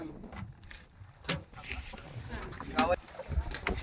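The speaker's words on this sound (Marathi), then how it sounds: "आम्ही सुखरूपपणे किनाऱ्यावर आमची बोट आता सध्या लागत आहे" A small boat on a reservoir near Malunge village, Mahabaleshwar, Satara, pulls in and lands at the shore, with faint wind, water and hull noises, a couple of louder bumps and knocks, and voices talking now and then.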